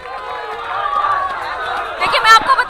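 Angry protesting crowd on a highway in Howrah, heard as a dense wash of shouting and chanting voices from a mass of people, steady and loud, with sharper outbursts near the end.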